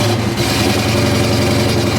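A large Pontiac 455 engine idles steadily while warming up, with a deep, continuous rumble, loud and close, with no talking.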